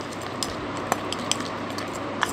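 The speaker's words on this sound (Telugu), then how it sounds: "కలిపేసి స్క్రబ్ లాగా తయారు చేసుకోవాలి" A spoon clinks and scrapes lightly in a small bowl while turmeric and malai cream are mixed into a paste. The taps are faint and sparse over a soft room hiss.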